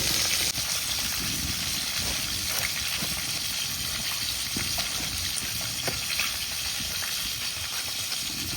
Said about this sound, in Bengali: একদিকে মাছ ভাজা ভাজতে আর একদিকে আমি বেগুনটা কেটে নেব